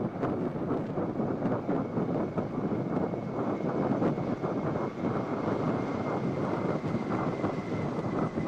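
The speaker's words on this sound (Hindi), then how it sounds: "In diamond formation are the Dorniers." Dornier aircraft flying past in diamond formation at an Indian Navy fleet review, a continuous broad engine drone with wind buffeting, steady and moderately loud with no voices.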